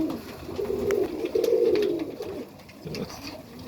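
Serbian Highflyer pigeons coo in a loft, making a few low, throaty rolling calls at close range with faint background noise.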